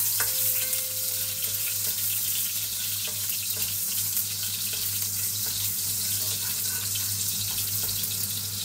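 Garlic sizzling in hot oil at the start of cooking sinigang na hipon, a steady, loud, even crackle that runs without pause, with faint kitchen clatter and no talk.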